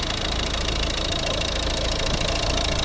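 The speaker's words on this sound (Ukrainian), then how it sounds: "Ось робота двигуна." The D2 diesel engine of a 2011 Volvo V50 idles steadily nearby, a continuous clattering knock with a constant, even hum.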